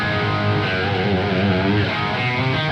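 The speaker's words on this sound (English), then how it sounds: "this modulation switch here adds a nice bit of extra thickness to the sound" Sustained, thick distorted chords from an electric guitar ring steadily and loudly through a delay with its modulation switch engaged.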